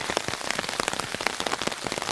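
Heavy warm July rain drums steadily on an umbrella held overhead while walking, dense close patter of drops with no voices.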